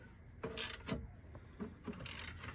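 Ratchet wrench with a 3/4 socket tightening the upper rear toe arm bolt on a 3.6 vehicle, a few short bursts of clicking ratchet strokes, close and fairly quiet, with no talk.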